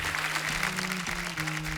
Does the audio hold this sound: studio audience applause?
yes